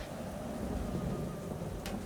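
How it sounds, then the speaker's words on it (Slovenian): A summer thunderstorm in a forest as a sound effect: dense steady rain hiss over a low rumbling wash of thunder, even and continuous, with no voices. "Nekega poletnega popoldneva je v gozdu nastala nevihta."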